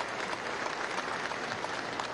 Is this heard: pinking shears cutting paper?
no